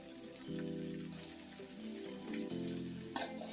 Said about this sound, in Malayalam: നമ്മുടെ ഉള്ളിയും മുരിഞ്ഞോളും, ഇതും ഫ്രൈ ആയിക്കോളും